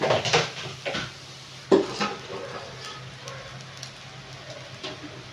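Rice is tipped in and stirred through sweet potato and cabbage in a pan, with a few loud scraping, clattering strokes of a spoon against metal over a soft sizzle that fades toward the end.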